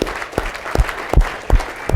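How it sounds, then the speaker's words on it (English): Applause at an annual company conference in a hotel ballroom, heard as a scattered run of individual claps with deep thuds standing out about every third of a second, fairly close and moderately loud. "And I'd like to applaud that"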